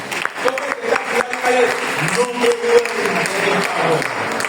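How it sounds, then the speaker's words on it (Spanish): A church congregation applauding, a steady burst of clapping from many hands that rises and holds, with a voice speaking over it. "Denle un fuerte aplauso al Señor."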